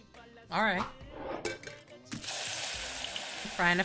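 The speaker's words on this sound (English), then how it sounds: "Frying a fish." Fish frying in a pan in the cooking game Venba: a steady, bright sizzle starts midway and continues to the end, with short vocal sounds just before it and again near the close.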